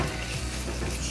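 Chopped tomato and red pepper being stirred into a hot cast iron pot, a steady soft scraping and sizzling that stays even and close throughout, with no voices.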